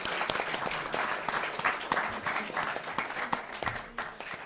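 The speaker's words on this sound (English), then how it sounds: "Big round of applause for the students." An audience claps in sustained applause for the present students of a school at a memorial lecture event, with dense, steady clapping throughout and no speech over it.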